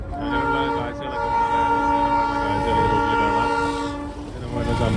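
Darjeeling toy train on its run from New Jalpaiguri, a steady loud horn tone holding over continuous rumbling and rattling wheels for several seconds, with a brief dip near the end before the noise swells again.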